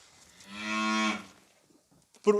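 Cows on a Ukrainian farm give one long, loud moo, followed after a pause by the start of another, with no talking.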